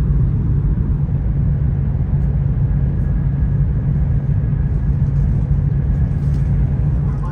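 Steady low rumble of the Whoosh high-speed train running at 315 km/h at night between Jakarta and Bandung, a constant deep cabin drone with faint whine, no voices.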